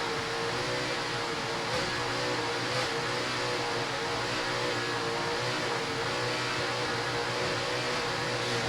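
Mercury-powered offshore racing powerboat engines roar in a dense, continuous wall of sound, loud and steady throughout with no voices.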